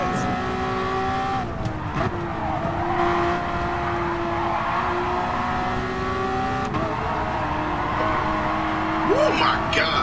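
Race car engine in Gran Turismo Sport drones steadily at high revs with shifting pitch, brief tire squeals and a rising whine near the end, with a voice talking over it throughout.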